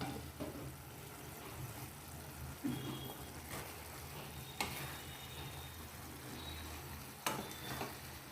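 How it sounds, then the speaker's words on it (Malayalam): A mutton masala fries in a pot with a low, soft sizzle, while a ladle stirring it adds a few distinct scraping knocks against the pot. "ഒന്നുകൂടെ ഒന്ന് ഇളക്കിയിടാം."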